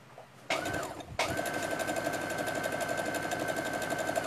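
A sewing machine runs a zigzag stitch on a cloth rag doll, starting briefly, pausing, then running in a fast steady rhythmic whir close by.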